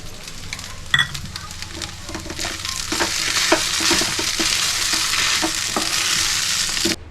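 Grated potato with salt and coriander fries in a pan as vada stuffing, a steady close sizzle with occasional stirring clinks, growing slightly louder midway and continuing without speech.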